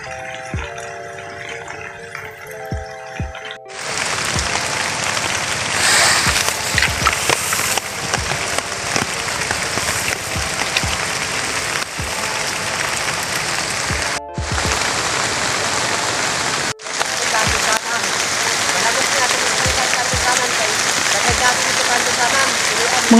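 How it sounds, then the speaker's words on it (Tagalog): Heavy rain pours down steadily and loudly on a surface, a dense continuous roar that stops abruptly twice before resuming, with no voices over it. "nikusog na gid ang ulan"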